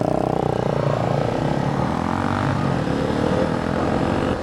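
A KTM 390 Enduro motorcycle rides off-road, its engine giving a loud, continuous droning roar with a tinny metallic resonance from the bash plate, heard close up throughout.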